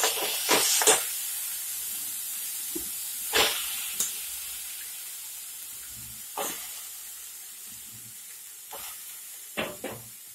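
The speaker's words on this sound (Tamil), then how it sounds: "இதில் வாழைத்தண்டை போடுறேன்" Steady hissing sizzle of chopped banana stem frying in hot oil, with occasional louder crackles and spatters, close by and gradually settling.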